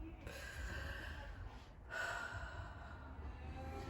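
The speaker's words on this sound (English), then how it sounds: "can you take some deep breaths for me?" A patient takes deep breaths during a lung exam: two long, airy inhale-and-exhale passes, close and soft, with a brief pause between them and a steady background hum.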